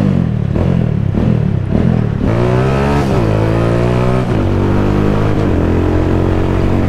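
A motorcycle engine on a road ride revs hard, then quick-shifts up a gear and keeps pulling, loud and close, with the pitch climbing after each shift.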